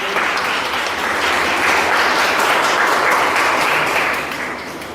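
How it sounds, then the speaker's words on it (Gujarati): A gathering of people at an institution for the blind applauds to welcome visiting women from a housing society, dense sustained clapping that swells in the middle and tapers off near the end. "આપણે સૌ તેમનું તાળીઓથી સ્વાગત કરીએ"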